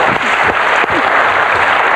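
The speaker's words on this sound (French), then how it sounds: "Eh oui, on peut l'applaudir." A television game show studio audience claps through the whole stretch in a dense, steady burst of applause, with a few sharp accents rising out of the clapping.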